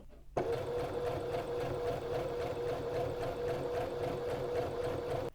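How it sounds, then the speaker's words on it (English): A sewing machine runs steadily while stitching a narrow hem close to the fold, a soft, even, rapid mechanical whir starting abruptly and holding for about five seconds, near and fairly quiet with no talk. "So we've sewn this down close to the fold."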